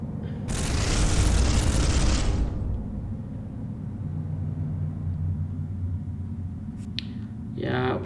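Weapon fire in the retro video game Space Hulk, a loud sustained roaring burst of about two seconds, then a low humming drone with a small click and a brief sound near the end.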